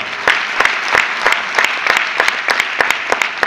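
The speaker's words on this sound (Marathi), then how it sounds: "अपलाईन बद्दल जोरदार टाळ्या वाजव" An audience at a motivational talk claps loudly for a speaker's upline mentor, a close, dense burst of hand claps with sharp, uneven peaks that stays strong throughout.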